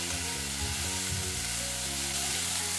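Potatoes and cauliflower sizzle as they are stir-fried in a pan, a steady close frying hiss under continuous background music.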